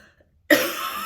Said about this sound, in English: Just cough, it's brutal.